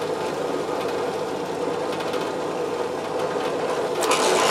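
Machine drilling holes into a wooden guitar body, a steady close grinding whir that runs throughout without pause and grows slightly louder near the end.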